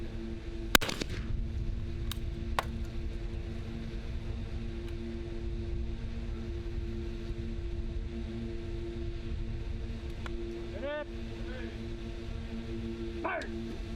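Shotguns fire at an outdoor helice shooting match: a sharp blast and then two more quick reports in the first few seconds, loud and echoing, followed by quiet range ambience with occasional thin chirps.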